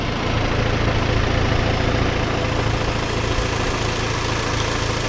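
A Rover 45 car engine idles steadily and close by, a constant loud hum with a faint whir from the power steering pump mixed into the drone.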